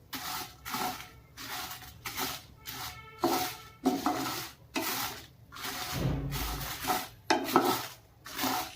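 Dried chillies roast in a pan for a Mangalorean mackerel pulimunchi, a spatula scraping and clattering in steady bursts over a light sizzle, close and fairly loud, with no talking.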